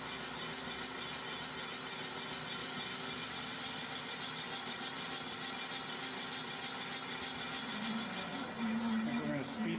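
Metal lathe taking a skim pass on a 7-inch aluminum dive tank, a steady dense machining whir with ringing tones throughout, shifting and rising slightly near the end.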